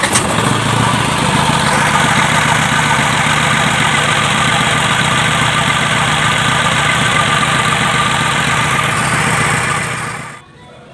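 An Isuzu 4HF1 diesel engine runs at a steady, loud idle close by for about ten seconds after being started, then cuts off abruptly near the end.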